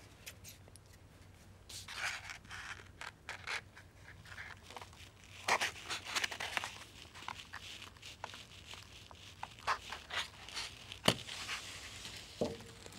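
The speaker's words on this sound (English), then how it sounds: "Now that the cartons are dry, I'll poke little holes in the bottom with scissors." Scissors poke small holes into the bottoms of dried cartons, a series of soft taps, crinkles and scrapes close by, irregular and fairly quiet, with a sharper crack near the end.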